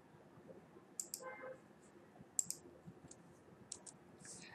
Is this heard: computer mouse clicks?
yes